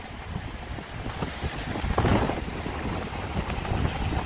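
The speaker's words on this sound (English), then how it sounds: "The ocean is noisy." Ocean surf on the windy east side of an island, a steady broadband wash with a swelling surge near the middle, heavily mixed with wind buffeting the microphone.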